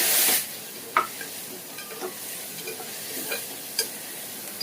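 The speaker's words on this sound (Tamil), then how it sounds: "நல்லா வதக்கிட்டு வெங்காயத்தை சேர்த்துக்கலாம்" Onions sautéing in hot oil with garlic and curry leaves, a soft continuous sizzle broken by several sharp spatula taps and scrapes against the pan, close up and without any voices.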